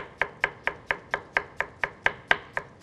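A knife chops an ingredient into small pieces for a sea bass stew, about a dozen crisp, evenly spaced strikes on a cutting board, close and alone.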